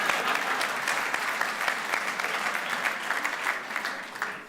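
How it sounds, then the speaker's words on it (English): An audience at the Joe Lapchick Character Awards applauds steadily, a dense, even clatter of many hands clapping that lasts the whole moment. "I'm going to clap for that."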